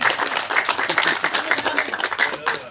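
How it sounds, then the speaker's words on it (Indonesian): Clapping from a crowd at a groundbreaking ceremony for a Jesus statue in Keerom, Papua, brisk and fairly close, with a few loud hand claps standing out and voices mixed in. "Tepuk tangan dulu"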